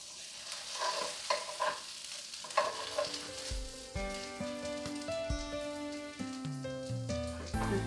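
An oyster and oyster mushroom pancake fries in a pan, giving a steady close sizzle and crackle, with some clinks early on and background music over it later.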